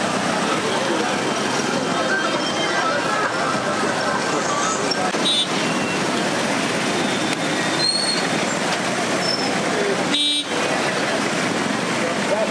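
Dense, steady rush-hour traffic din in Kampala, Uganda, with engines rumbling and scattered horn toots, a continuous busy roar without letup.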